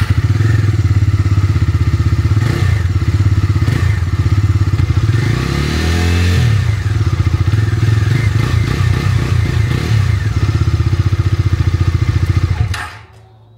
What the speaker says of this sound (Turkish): Egzoz sesimiz güzel.